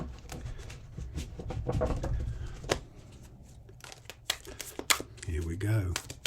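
A deck of tarot cards being shuffled, with quick riffling and papery flutters in bursts, close by, while a voice talks over it.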